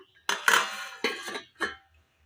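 A lid clatters onto a cooking pot holding a mixed Onam dish. Three close, bright metallic knocks come in quick succession, the first longest, with a short pause before the last, and no one talks.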